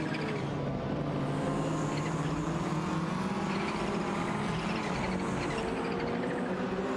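Racing engines of a Porsche 944 Turbo and a Toyota Celica battling for position, a steady droning engine roar with pitch rising and shifting as the cars run close together.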